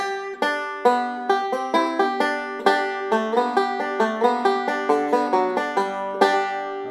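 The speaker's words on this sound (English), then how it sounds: "So if I play Cripple Creek," Banjo playing the first four measures of Cripple Creek, bright plucked notes in quick, steady picking rolls with crisp attacks, close and alone without talk.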